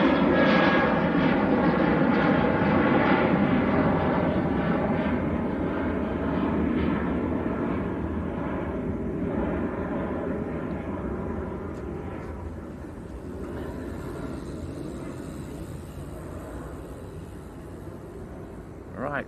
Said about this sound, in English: There goes Ryanair, just rotating.